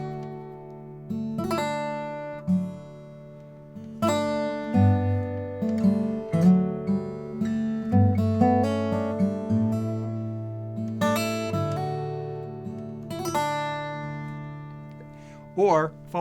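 A Lowden Alex de Grassi signature acoustic guitar plays a sweet, gentle fingerstyle piece, with ringing plucked notes and sustained chords, close and clear with no talking.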